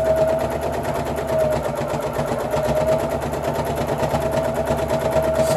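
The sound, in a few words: sewing machine stitching through four layers of fleece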